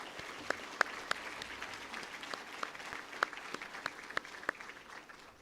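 A crowd applauds at a military change of command ceremony for an Army engineer district, steady moderate clapping with distinct sharp individual claps standing out, continuous throughout and heard from some distance.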